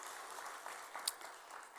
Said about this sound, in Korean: 우리 축하의 박수 한번 드리도록 하겠습니다.